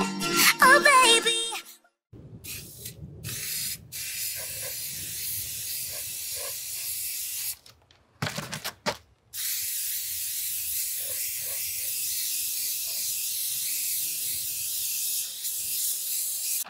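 Krylon Warm Sun satin spray paint hisses from a can onto a tall DIY planter: a harsh initial burst, then short sprays with gaps, then a long, steady close-up hiss.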